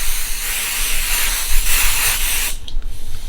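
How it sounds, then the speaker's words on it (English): Quilt basting spray is misted from an aerosol can onto a piece of fabric, a loud, steady hiss lasting nearly three seconds before it cuts off into a softer tail of hissing. "So I will spray this piece lightly."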